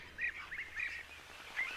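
Egyptian geese give a few short, honking calls in quick bursts, fairly close and clear over faint background noise.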